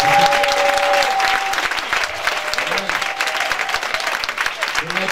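A church congregation at a spiritual retreat applauds steadily to acclaim Jesus, a dense wash of clapping with scattered voices and a sustained tone fading early on.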